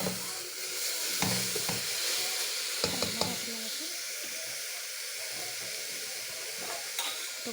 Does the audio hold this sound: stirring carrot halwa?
yes